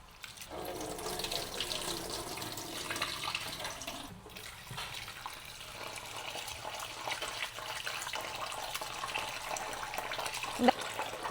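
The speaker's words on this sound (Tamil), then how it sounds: "இப்படி ஒரு 3 தண்ணியில் கழுவி ஊற்றி கொள்ளுவோம்" Flattened rice (aval) being rinsed under a running kitchen tap, a steady continuous splash and trickle of water into a sink or bowl for the whole stretch, fairly close, with no talking.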